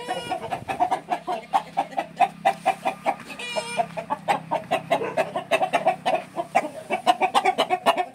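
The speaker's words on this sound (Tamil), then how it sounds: "இது நம்ம முதல்ல ஒரு ப்ரீடர் சேவல் போட்டிருப்போம், கூவத்தாடியோட செங்கருப்பு." A Koovathadi sengaruppu breeder rooster, a fighting cock, clucks close by in a fast, steady run of short calls. Other fowl are faintly audible in the background and there is no talking.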